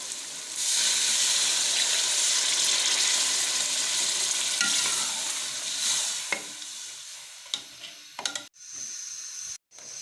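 Water poured into frying masala for aloo matar pulao: a loud, continuous hissing sizzle at close range that fades toward the end, followed by a few clanks and stirring noises.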